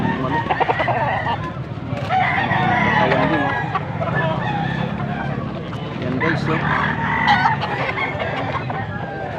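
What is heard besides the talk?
rooster crowing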